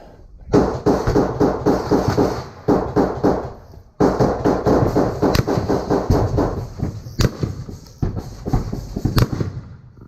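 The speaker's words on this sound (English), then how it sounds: "Who's shooting there?" Rapid bursts of gunfire near a live broadcast in Ukraine, loud sharp cracks fired in quick strings, with a brief pause and then more volleys followed by a few isolated shots.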